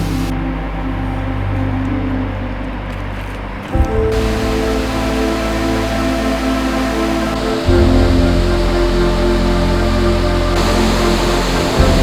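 A hidden waterfall along a clear mountain stream gives off a steady, loud rushing roar of falling water, continuous and broadband, with no voices.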